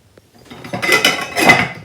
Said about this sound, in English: You're grumbling and banging pots around all over the place.